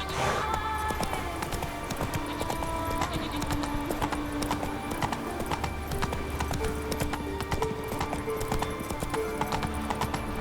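A horse gallops hard in The Witcher 3, with a dense, rapid drumming of hooves throughout, loud and close, and a brief whinny near the start.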